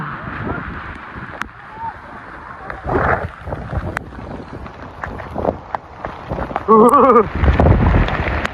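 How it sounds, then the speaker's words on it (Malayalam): Strong wind buffets the microphone at the Kakkadampoyil hills in Kerala, a constant low roar with gusting bursts, while people talk intermittently. "കിടിലൻ കാറ്റ്."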